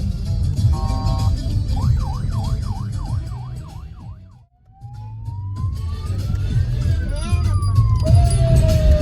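A loud electronic siren cycles through rapid yelping sweeps, then a slow rising and falling wail, over a steady low rumble.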